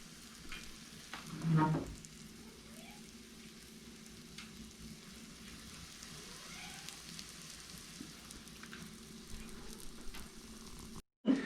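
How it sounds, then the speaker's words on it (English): Codfish cakes fry on an antique wood cookstove, giving a steady soft sizzle and crackle with faint clinks from the kitchen. A brief louder bump comes early on. "we've got the codfish cakes cooking here on the stove"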